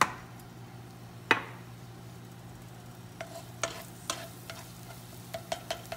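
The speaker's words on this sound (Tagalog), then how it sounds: "Makainit na ako ng mantika. Ilagay ko na lang yung bawang." Garlic frying in hot cooking oil, a soft steady sizzle close by, broken by scattered sharp clicks and taps of a utensil against the pan.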